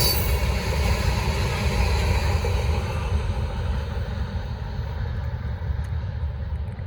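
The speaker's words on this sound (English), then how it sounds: "There you go, short train." Norfolk Southern freight train rolling past a trackside spot in Gaffney, South Carolina, a steady, loud rumble with low droning engine noise and continuous wheel roar that eases slightly toward the end.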